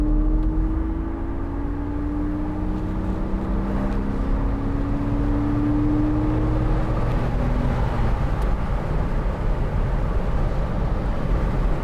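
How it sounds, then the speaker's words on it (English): A 2002 Porsche Boxster 986 with a 2.7 engine and the roof down accelerates, its engine note rising steadily in pitch as it pulls, then settling into a continuous loud drone with road and wind rumble. "We'll just give it some gas."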